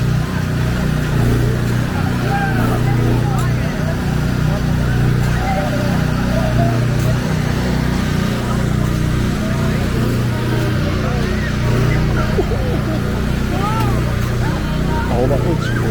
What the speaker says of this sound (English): As the generator amps up for each little push and the squeakiness of the wheels